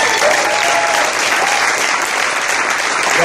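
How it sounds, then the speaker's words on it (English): Dense, loud applause from a live business-event audience at Live the Dream 4, a continuous wash of clapping from many hands with no break. "Give yourselves a round of applause."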